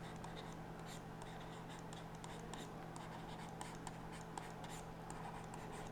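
Steady scratching of writing on a board during a Hindi maths lesson on cube roots, continuous and fairly close, with small taps and strokes over a low constant hum.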